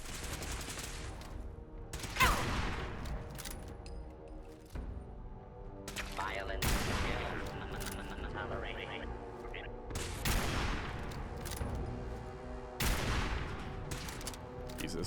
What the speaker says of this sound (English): Little Protectotron doing the best he can. now he's firing on me.